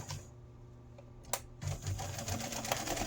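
A sewing machine stitches around the lining of a patchwork notebook cover, close mechanical needle chatter with a couple of sharp clicks partway through, then steadier running.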